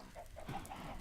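Minecraft chickens clucking in a short run of soft, evenly spaced clucks, faint and close together, in a quiet game scene.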